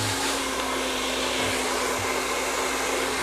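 A hair dryer blows on curly hair with a loud, constant whirring roar close by, steady throughout with no talk.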